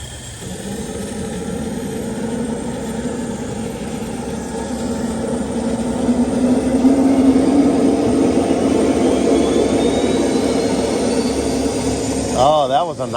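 A Jakadofsky Pro Edition model jet turbine engine spins up during a start attempt, a steady broadband roar with a rising whine that builds and holds, ending in a brief warbling surge; a voice speaks near the end.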